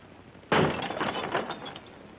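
Window glass is smashed with a hammer in a 1943 comedy film: one sudden loud crash after a quiet moment, followed by a scatter of tinkling shards trailing off over the next second and a half.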